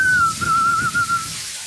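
A person whistles a sustained, slightly wavering tone, clear and close, trailing off after about a second.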